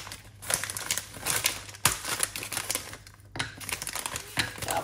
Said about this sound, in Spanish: lo cortamos así con la mano en onzas y lo echamos al bol